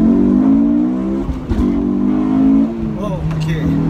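A Honda S2000 engine pulls hard through first and second gear, its tone climbing steadily before a short break for the shift, loud and close with a voice talking over it.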